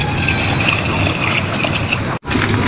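A container of water pours steadily into a cooking pot while Ilonggo-style chicken with tomatoes is being cooked, a close, continuous splashing gush that cuts off abruptly near the end.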